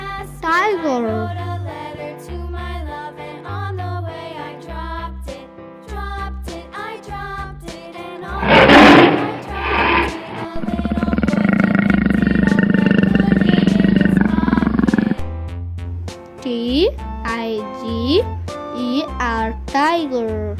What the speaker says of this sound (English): T-I-G-E-R tiger.